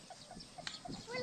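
A chicken clucks in a rice field, a few short, soft calls spaced apart over faint outdoor background.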